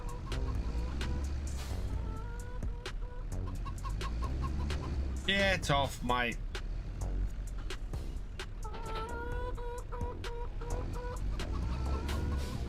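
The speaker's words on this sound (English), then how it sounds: "Yeah, we are maxed out on the chickens." Chickens in the Farming Simulator 25 game cluck and squawk repeatedly in a busy farmyard, with engine hum and other game noise underneath and someone speaking briefly.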